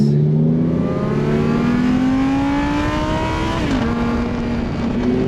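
A Lamborghini Huracan STO, tuned and running on pump gas, cruising in STO mode with a loud, steady engine drone heard from inside the car, its pitch rising gradually and dropping once as it shifts.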